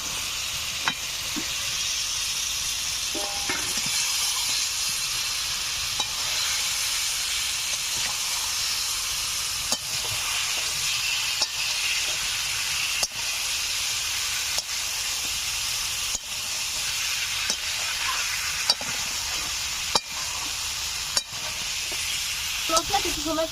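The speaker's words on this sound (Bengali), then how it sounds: "এখন ভেজে রাখা শঙ্কর মাছগুলো দিয়ে আরো কিছু সময় কষে নেব।" Fried stingray pieces sauté in a thick spice paste in a pan, giving a loud, continuous sizzle and hiss throughout, punctuated by regular clacks of a spatula stirring and scraping.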